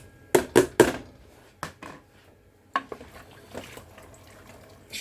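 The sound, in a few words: chickpeas added into an aluminium pressure cooker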